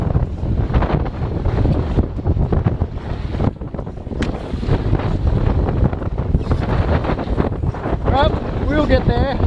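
Strong wind of around 25 knots batters the microphone on a Hobie sailboat out on open water under heavy sail. A loud, constant roar and buffeting fill the scene, with water rushing and faint voices partly buried beneath.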